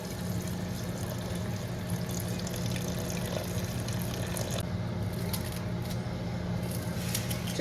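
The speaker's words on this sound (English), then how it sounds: "I think I'm gonna throw some water in here" Water poured from a tap or jug into a soup pot on a home stove, a steady continuous splashing rush lasting throughout, fairly close, with a low hum underneath.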